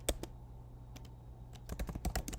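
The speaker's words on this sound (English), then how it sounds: "it's a lot of typing" Keys clack on a computer keyboard in a quiet room, a short burst of typing followed by a pause and then a quicker run of soft, irregular taps.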